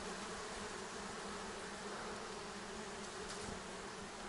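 Honey bees buzzing steadily around hives at an apiary, a dense continuous hum of many insects close by with no talk over it.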